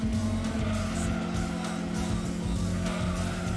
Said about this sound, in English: I hear the TVR right there behind me